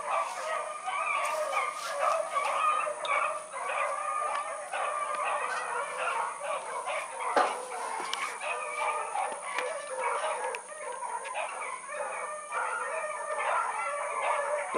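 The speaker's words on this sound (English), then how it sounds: "Those dogs are getting some running, Steve." Rabbit hunting dogs running in open country give a steady chorus of yips and barks, some near and some farther off, overlapping throughout with no talk.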